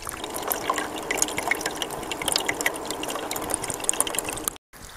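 Water drips and trickles through a sieve of minus-70 mesh gold concentrate from a gold hog and miners moss sluice test, a steady close patter that cuts out abruptly near the end, with no talking.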